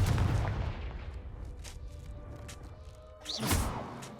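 A Confringo blast spell exploding in Hogwarts Legacy, with a deep booming burst up front that rumbles away, followed by a second whooshing blast later, all over a low game background.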